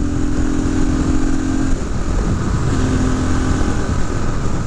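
A 1972 Honda XL250 Motosport motorcycle engine runs steadily up close, a loud continuous single-cylinder drone with a held tone that drops out briefly and then returns.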